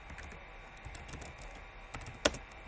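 Computer keyboard typing a command in Ubuntu, a short run of soft, close key clicks ending in one sharper keystroke, with no voices.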